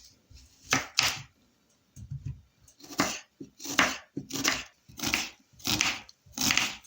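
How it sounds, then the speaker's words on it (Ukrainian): A knife dicing an onion on a cutting board in quick bursts of rhythmic strokes, close and crisp, with short pauses between runs. "Цибулину наріжу кубиками."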